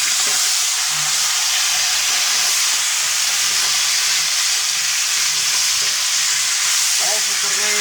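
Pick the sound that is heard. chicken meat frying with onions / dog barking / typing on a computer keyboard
chicken meat frying with onions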